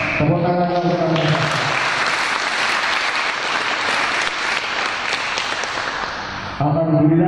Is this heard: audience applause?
yes